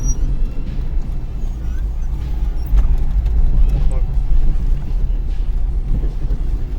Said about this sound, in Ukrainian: Досить такий от класний тяговитий двигун.